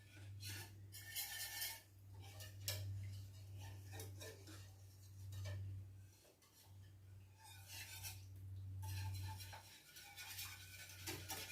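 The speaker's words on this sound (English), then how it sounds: "I use this whisk the whole time, so I make sure I get all the good flavor off the bottom of the pan" A whisk scrapes and stirs thickening sausage gravy around the bottom of a pan, a soft, repeated rasping and light metallic clinking that comes and goes in quiet strokes.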